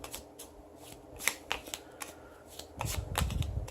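Hard Yamatai board game tiles clack and rattle in quick, uneven bursts as they are shuffled together, close by.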